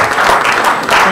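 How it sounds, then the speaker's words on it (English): Conference audience applauding through a closing session, a steady dense wash of clapping at close range that holds evenly from start to finish. "A round of applause for the open mic session."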